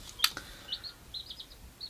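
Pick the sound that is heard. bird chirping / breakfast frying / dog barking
bird chirping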